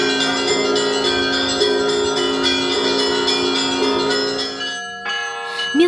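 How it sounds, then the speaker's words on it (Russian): A large church bell in a Russian village tolls steadily at noon on a Sunday, with rich, ringing overtones that hang in the air, the strokes blending together before the sound thins out near the end. "Ровно в 12 дня воскресенья в совхозе Доскина зазвонил колокол."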